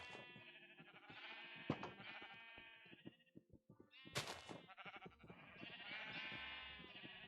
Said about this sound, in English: You can't get away from me, Mr. Sheep.